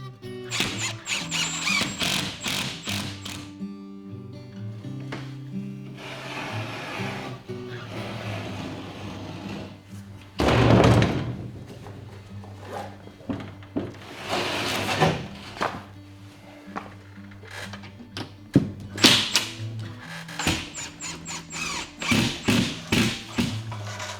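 Sheets of drywall are shifted and handled on a renovation site, with repeated knocks, thumps, scrapes and rustles, one louder heavy thud near the middle, close and uneven in rhythm, with no talk.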